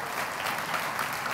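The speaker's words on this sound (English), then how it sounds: "Give her a big hand clap." An audience at a church gathering claps for the camera director, a dense, steady burst of applause from a crowd filling the room throughout.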